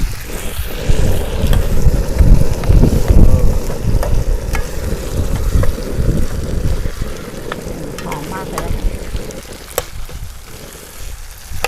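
Food sizzles and is stir-fried in a pan outdoors by a river, with scraping and frying sounds, while gusty wind rumbles against the microphone throughout.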